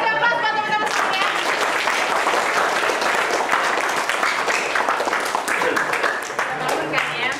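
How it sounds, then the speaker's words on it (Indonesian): Audience applauding friends in a group gathering, dense clapping throughout, loud and close, with voices mixed in. "kasih aplaus buat teman-teman semuanya"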